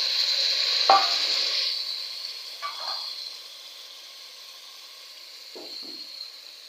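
Pumpkin pieces tossed into a hot frying pan for a pumpkin curry, a steady sizzle running throughout with a few sharp scraping stirs of a spoon against the pan.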